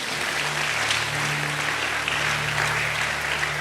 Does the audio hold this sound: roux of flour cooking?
no